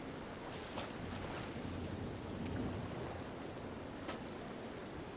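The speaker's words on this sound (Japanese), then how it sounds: "でも嵐来るんですよ。" Heavy storm rain from the video game Syberia: The World Before, a continuous hiss of downpour with faint low thunder rumbling beneath, steady and even across the whole stretch, no talking.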